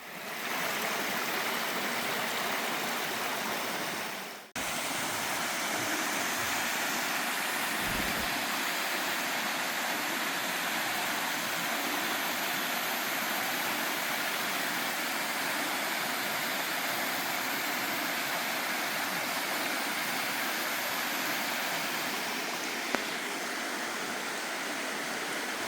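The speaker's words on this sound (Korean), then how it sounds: "이 바위 아래는 수십 미터 높이의 응봉폭포가 이어집니다." Rushing water roars steadily from Eungbong Falls, a waterfall tens of metres high, and its stream in Inje, South Korea, a continuous broadband wash with a brief dip and faint thuds early on.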